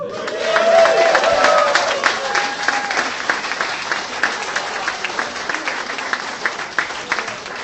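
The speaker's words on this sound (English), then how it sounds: "A round of applause for our supporting organisations." An audience at the 2016 Arthur C Clarke Award ceremony applauds its supporting organisations, a dense, sustained round of clapping from a crowd that swells early and then holds steady with crowd murmur underneath.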